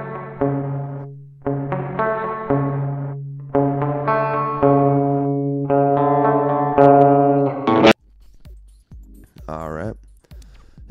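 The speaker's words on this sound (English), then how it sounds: "Let's listen to how it sounds just normally with the reverb on" Sustained synth and instrumental notes in a Logic Pro track play with a reverb effect, each chord ringing out with a lingering wash, followed by a few short, sparser tones.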